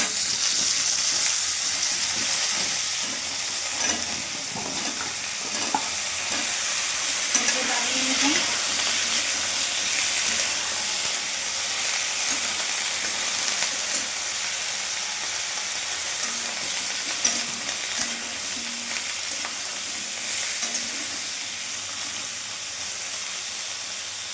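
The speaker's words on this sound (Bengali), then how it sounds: "এবার নাড়িয়ে এবার 2-3 মিনিট আমি আলু আর ফুলকপিটা ভেজে নেব।" Potato and cauliflower pieces fry in hot oil, giving a loud, continuous hissing sizzle up close with faint occasional stirring beneath it.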